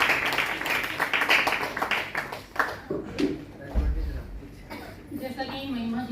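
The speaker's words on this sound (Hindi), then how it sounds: "तालियां" Audience applauding children at a poetry recitation competition, a crowd clapping for a few seconds before it thins out and a voice begins speaking.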